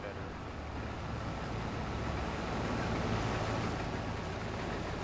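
A tractor engine in the video game Farming Simulator 22 drones at a steady, moderate level, a continuous low rumble and hiss that swells slightly midway without any distinct breaks.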